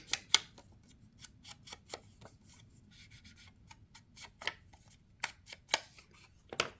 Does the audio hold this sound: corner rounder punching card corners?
yes